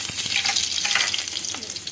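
Garlic frying in hot oil with dried fenugreek seeds, a loud close crackling sizzle with quick stirring scrapes, brief and without talk.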